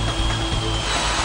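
A drill bit bores into the lock mechanism of a safe, giving a loud, continuous mechanical grinding and rattling that holds steady throughout, with no voices.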